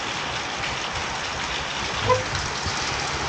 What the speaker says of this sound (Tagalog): Pero ngayon, inulan na naman tayo.